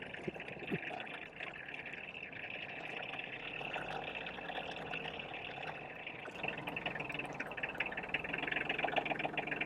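A steady tractor engine rumbles continuously throughout, a low mechanical drone with a slight rise in intensity toward the end, no voices.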